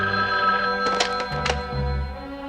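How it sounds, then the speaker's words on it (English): An old-fashioned telephone bell rings steadily in a 1970s mystery drama, a bright metallic trill sounding close and clear over low background music, with no voices. "The phone rang for a long time"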